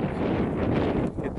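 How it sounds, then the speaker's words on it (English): Strong wind gusts against the microphone outdoors beside a dry lake bed, a loud, steady, rumbling roar with no talk over it. "Alright, so it's windy."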